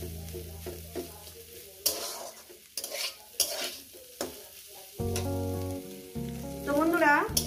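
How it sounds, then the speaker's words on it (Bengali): Egg fried with vegetables in a pan over medium gas gives a steady sizzle broken by scraping stirs and spatula clinks, with tonal hum and musical tones in places and no talk. "মিনিমাম আমি আরও 3-4 মিনিট এটাকে ভেজে নেব।"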